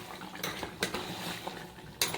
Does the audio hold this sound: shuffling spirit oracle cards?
no